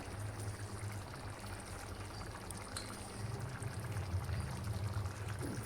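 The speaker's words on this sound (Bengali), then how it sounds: "খিচুড়িটাতে আমি একটু ঘি দিয়ে দিব টেস্টের জন্য।" Ghee pouring into a pot of chicken dalia khichuri, a soft, steady liquid stream running close by for several seconds, alone without talk.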